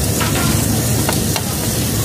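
Meat sizzles hard in a hot pan at a Japanese grill restaurant, a loud, dense, unbroken frying crackle close up, with a few faint clinks and no voices.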